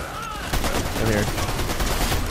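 Hyper SMG submachine gun firing in Fortnite, a quick stream of rapid shots over ongoing game sounds.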